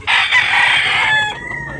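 A big yellow-tailed Buyugon rooster crows once, loud and close, a single sustained call lasting over a second with no talk over it.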